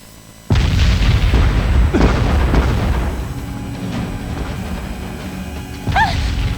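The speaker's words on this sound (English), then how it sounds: "The bombing's about to begin." Bombing explosions in the video game Valkyria Revolution: a sudden loud blast opens a sustained, rumbling barrage with further booms layered through it, and a fresh heavy hit near the end.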